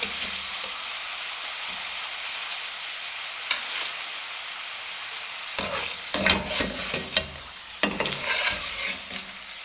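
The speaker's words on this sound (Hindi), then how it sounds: "40 सेकंड इनको हम फ्राई करेंगे।" Potato chips frying in hot oil, a soft continuous sizzle that grows busier and louder toward the end with crackling bursts as the slices are stirred and lifted.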